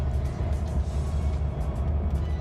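A Chevy Colorado ZR2 Duramax diesel pickup pulls a large trailer uphill on a mountain road near Fancy Gap, its engine a steady, loud low drone heard from inside the cab with road rumble and no talking.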